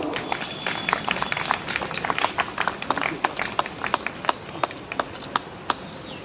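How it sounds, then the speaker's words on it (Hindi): Applause from a ceremony audience welcoming a local MLA at a Madan Mohan Malaviya birth-anniversary event, a steady patter of many hands with sharper individual claps standing out, sustained throughout at moderate loudness. "जोरदार तालियों से स्वागत हो।"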